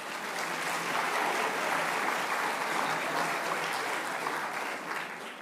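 Sustained, dense applause from an audience at a high school awards ceremony, steady and full throughout with no break.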